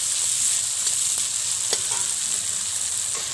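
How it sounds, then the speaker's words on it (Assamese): Onion, garlic-ginger paste and tomato frying in hot oil with cumin, a steady close sizzle with a few light stirring scrapes, no talking. "তাৰপিছত বিলাহীটো দি পিনি এতিয়া ভাজি লৈছোঁ"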